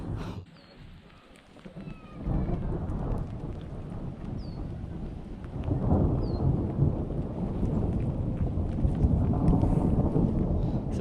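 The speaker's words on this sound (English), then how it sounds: "So it started raining a little bit more," Steady rain falls outdoors near an abandoned bunker site, a soft continuous hiss that thickens and grows louder after a couple of seconds, with faint low rumbles underneath.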